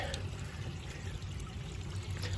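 Water pouring from a large, heavy pitcher full of water, a steady low rushing splash that runs continuously and close by, with no talk over it.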